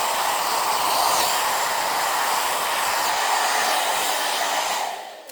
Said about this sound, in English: all you have to do is get your blow dryer and put it on cool